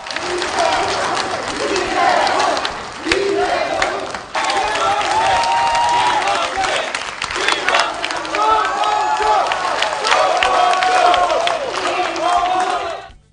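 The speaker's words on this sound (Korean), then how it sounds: "각 후보 지지자들은 손뼉을 치며 경쟁적으로 후보들의 이름을 외쳤습니다." Supporters of rival candidates at a Saenuri Party Seoul mayoral primary policy debate clap and shout candidates' names, a dense, loud crowd roar of applause and chanting that runs continuously throughout.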